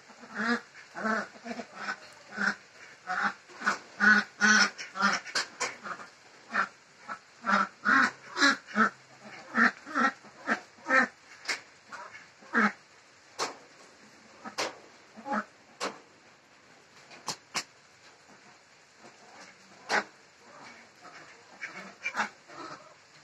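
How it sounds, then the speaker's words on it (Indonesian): Ducks foraging for food quack repeatedly in quick bursts, fairly close, with busy clusters of calls early on that thin out into scattered quacks later. "Berkuek-kuek, dia sedang mencari makan"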